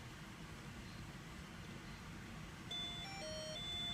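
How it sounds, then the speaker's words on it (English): A motion detector receiver gives a warning signal chime, a few thin electronic beeps entering over steady background hiss after a few seconds, fairly faint with no talking. "While motion is detected, there's a warning signal on the receiver."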